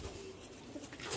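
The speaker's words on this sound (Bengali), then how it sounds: "কবুতর আমি আপনাদেরকে দেখাচ্ছি।" Pigeons coo faintly in a short, soft low murmur, with no talk.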